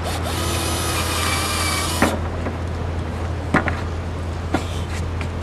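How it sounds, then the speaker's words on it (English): A power drill drilling a hole in wood whines steadily for about two seconds, then stops, followed by a few sharp knocks and taps against a low hum. "What you're going to do is you're going to drill that hole."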